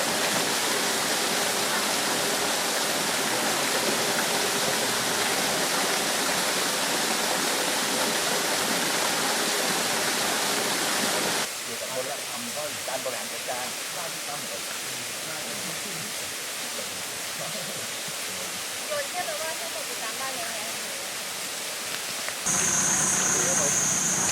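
A waterfall at a natural water source in Surat Thani, Thailand, roars as a loud, steady broadband rush that fills the whole stretch, its tone shifting slightly partway through.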